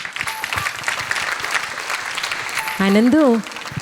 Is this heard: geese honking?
no